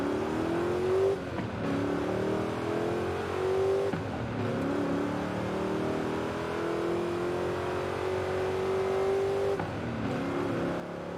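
A Honda S2000 engine revs while driving, the tone climbing smoothly through long pulls and dropping at each gear change, steady and fairly close from inside the car, with no talk.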